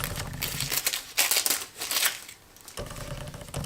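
Acid-free wrapping paper crinkles and rustles as a Hermes item is unboxed, with loud, close bursts of crumpling that swell, drop to a brief lull, then resume more softly, with no talking.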